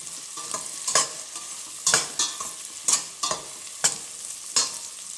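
Urad dal and chana dal fry in oil on a low flame, a quiet sizzle punctuated by about eight scraping stirs at a roughly even pace, close up with no voices.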